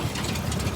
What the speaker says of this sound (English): we'll just idle the tractor down a little bit.